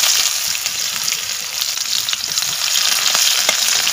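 Sliced onions fry in hot oil in a village kitchen pan after cumin seeds have crackled, a loud, steady, close sizzle with faint crackles, and no talk.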